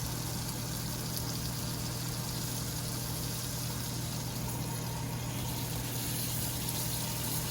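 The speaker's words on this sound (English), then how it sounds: "And I'm gonna go ahead and put the meat on it." Meat for a Dominican chimi sandwich sizzles in a hot pan with a dense, steady hiss and crackle, continuous and close with no speech.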